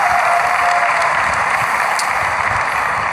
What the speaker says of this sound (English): So give yourself a round of applause for being here.